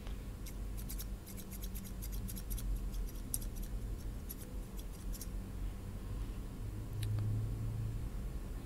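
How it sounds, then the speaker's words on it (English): Barber's scissors snip hair during an ASMR flat-top haircut, a quick run of crisp metallic clicks in bursts over the first five seconds, then a few scattered snips over a steady low background hum. "I wasn't just clicking the blades. I actually cut a bunch of your hair off."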